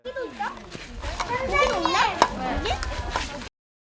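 Young children play and chatter continuously at a village daycare housed in a former rural elementary school. Their lively, overlapping voices stay close, and a few sharp knocks and clacks cut through the play.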